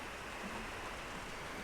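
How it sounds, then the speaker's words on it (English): Steady rain falls outside in a horror video game, a soft, even hiss that stays faint and continuous with no voices. "outside is raining"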